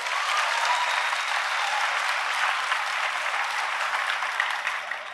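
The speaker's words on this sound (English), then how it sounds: "round of applause for Zoe" A school audience breaks into sustained, dense applause for a student at a high school assembly, loud and steady throughout with a crowd murmur underneath.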